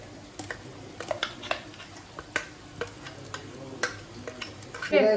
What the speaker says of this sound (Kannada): ನಾವು ಇವಾಗ ನೆಕ್ಸ್ಟು ಅದಕ್ಕೆ ಮಸಾಲೆ ಏನು ರುಬ್ಕೊಂಡಿದ್ದೀವಿ ಅದನ್ನು ಆ್ಯಡ್ ಮಾಡ್ಕೊತಾ ಇದ್ದೀವಿ